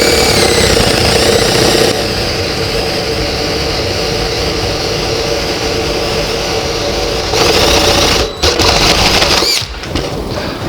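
A power drill with a 1.5-inch bit bores a through hole, a loud, continuous whining drone that shifts pitch early on and cuts out briefly twice near the end.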